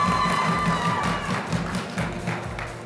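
An audience applauds at a Japanese patisserie presentation. Steady clapping fills the clip as a dense, even patter of hand claps.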